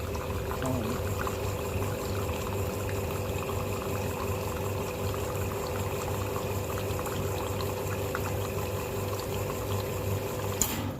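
A two-group Mairali espresso machine, an older model with a converted circuit board, runs steadily through the shot, giving a continuous pump hum and liquid flow at even loudness from start to end.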